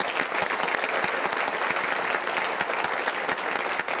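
Studio audience at a Bhojpuri quiz show in the style of Kaun Banega Crorepati claps steadily, a dense, loud wash of applause with no break across the whole span.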